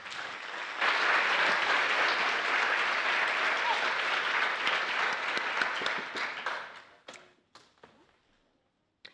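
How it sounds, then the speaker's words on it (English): An audience at a dairy festival scholarship pageant applauds the contestants, a dense wave of clapping that tapers into a few scattered claps and then quiet. "Let's give all of those contestants one more big round of applause."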